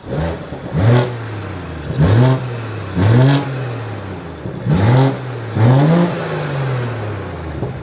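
A BMW fitted with a 600 hp Supra engine and an upgraded turbo is revved from the intake side in five sharp, loud throttle blips spaced about a second apart, each falling back to a rough idle between them.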